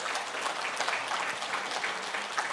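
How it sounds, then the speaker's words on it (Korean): Audience applause at a writers' conference as a speaker is honored, dense continuous clapping from a large crowd, steady and moderately loud throughout with no talking. "한 번 더 박수를 보내주십시오"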